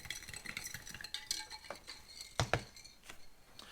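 Food is stirred with a utensil inside the pouch of a 2019 Russian IRP military ration, making close, quiet scraping and tapping with a few sharper clinks, and no one talking.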